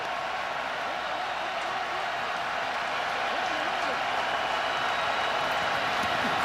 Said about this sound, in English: The crowd gets loud.